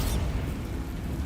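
A blast from the Bombarda spell in a fantasy video game: a sharp burst at the very start, then a dense low rumble that holds steady for a second, loud, with no talk.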